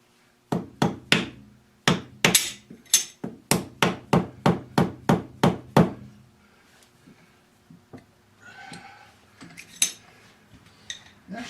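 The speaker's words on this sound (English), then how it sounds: "And just give it a little tap." Light metal taps on a lathe part, about a dozen sharp ringing strikes in quick rhythm, close and clear, then a few softer knocks and handling clatter in a quiet shop.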